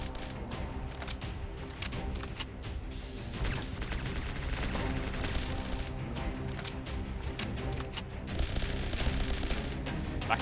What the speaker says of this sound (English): Or we could kill him in one VATS burst.